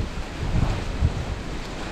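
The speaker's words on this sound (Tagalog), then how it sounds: "Lakas ng hangin" Strong wind roars steadily into the microphone, a constant rushing buffet with low gusty thumps and no voices.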